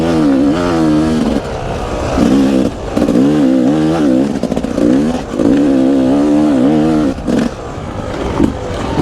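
A freshly rebuilt Yamaha YZ250 two-stroke dirt bike engine revs repeatedly, sharp rising and falling blips of throttle close by, loud and crisp with brief dips between pulls.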